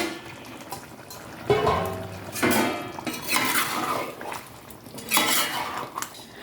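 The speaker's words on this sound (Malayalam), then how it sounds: "എന്നിട്ട് നമുക്ക് നന്നായിട്ട് ഇളക്കി ഒന്ന് യോജിപ്പിക്കാം." Chicken curry with chopped coriander leaves being stirred in a pan, a spoon scraping and knocking against the metal in irregular bursts at close range, with a faint wet trickle underneath and no talking.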